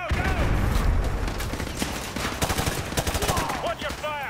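Rapid, dense gunfire fills a firefight in Modern Warfare 2 Remastered during the Prisoner 627 mission, with sustained automatic bursts and sharp cracks close by and loud throughout, a voice briefly cutting in over the shooting.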